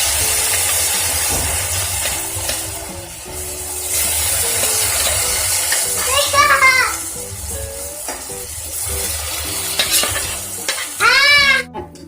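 Shrimp going into a pan of garlic butter with the garlic already browned: a steady, fairly loud sizzle that swells as the shrimp hit the fat, with voices talking over it.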